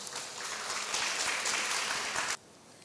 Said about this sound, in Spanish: Recibámoslos con fuertes palmas.